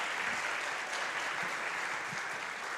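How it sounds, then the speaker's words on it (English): Steady, dense applause from a church congregation at a Unity of Nashville event fills the whole stretch, loud and even throughout with no break. "I want you to give Judy Blackwelder another applause"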